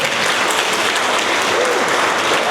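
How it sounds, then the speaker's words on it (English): Audience at a founders summit applauding a speaker after her talk, a dense, loud, continuous wash of clapping from a large crowd, steady throughout with no talk over it. "A bigger round of applause for this wonderful woman"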